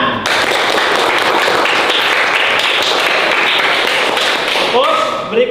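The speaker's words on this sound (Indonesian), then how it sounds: "Tepuk tangan." Classroom of schoolchildren clapping together in a loud, dense burst that holds steady for about five seconds, then tapers off with a few final claps.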